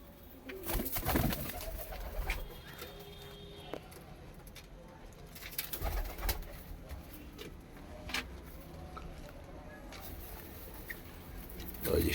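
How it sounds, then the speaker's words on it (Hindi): A white Punjabi malai chhatri pigeon in Ludhiana gives soft, low coos close by, with intermittent rustling and handling noises and scattered background sounds around it. "तो भाई एक इस सफेद कबूतर का शौक करो,"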